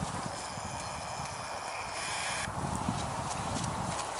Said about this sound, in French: Ensuite, je me suis mise au trot.